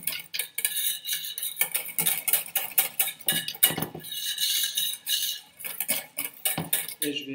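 Rapid metallic clinking and scraping of a whisk against a bowl while mixing pastry cream, steady and close, with brief pauses in the stirring.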